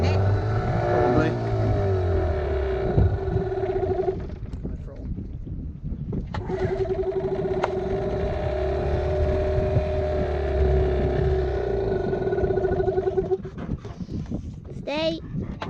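An outboard motor runs with a steady buzzing drone that drops out briefly and starts again, while people talk nearby.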